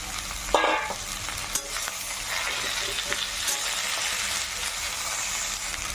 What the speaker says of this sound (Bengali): এখন লাইয়ের পাতাগুলো দিয়ে দিতে হবে, সুন্দর করে ভেজে নিতে হবে।